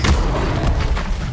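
Levioso spell cast in the video game Hogwarts Legacy, a loud, dense burst of magical force with a booming low rumble that fills the whole short moment and does not fade.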